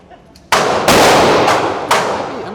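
A Smith & Wesson M&P 2.0 9mm pistol with an FRT trigger fires at a shooting range: four loud, sharp reports with echoing tails, the first two about a third of a second apart and the last two more widely spaced.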